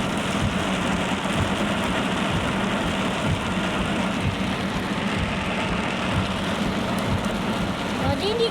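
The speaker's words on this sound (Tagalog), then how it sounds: "Lakas na ulan dito." Heavy rain pouring down, a dense continuous roar of water drumming on surfaces, close and steady, with faint low rumble beneath and possible voices mixed in.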